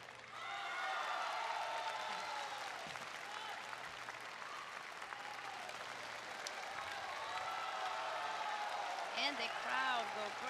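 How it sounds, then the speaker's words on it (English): Crowd at a women's changquan wushu competition bursting into loud, sustained applause and cheering after a routine, steady clapping filling the hall for about ten seconds with no speech. "And the crowd go crazy."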